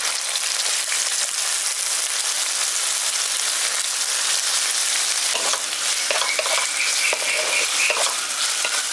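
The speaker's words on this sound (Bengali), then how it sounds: "এবার এটাকে হালকা করে একটু ভেজে নিচ্ছি।" Chopped onion and ginger-garlic paste fry in oil, giving a loud, continuous sizzle and crackle with occasional stirring sounds, close up and without talk.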